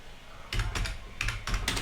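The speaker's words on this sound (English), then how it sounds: "So let me type" Keys clatter on a computer keyboard in a few quick bursts of close, crisp typing, with nothing else heard.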